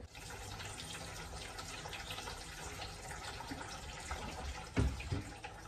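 Tap water runs steadily while a houseplant is watered at home, a continuous close splashing flow that swells into a brief louder gush near the end, with no talking.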